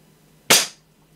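A single Hämmerli Hunter Force 600 air rifle shot, a sharp close crack that decays quickly into a short tail after a quiet moment, then near silence.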